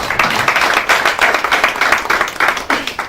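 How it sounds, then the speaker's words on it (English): A small audience at an official courtesy visit by the ICAN president applauds an award recipient: brisk, fairly close clapping from a modest group, loud and irregular with individual claps standing out, sustained throughout. "Can we give her a round of applause?"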